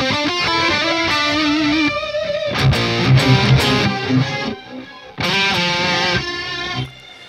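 Electric guitar played through a MAK CST delay pedal: sustained, distorted chords and notes with repeating echoes that trail off between phrases. The tone is loud and dense, with no voice over it.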